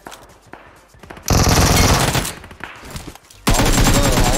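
Video game gunfire in a samurai battle-royale mode, two loud sustained bursts of rapid automatic fire separated by a quieter gap with softer distant shots.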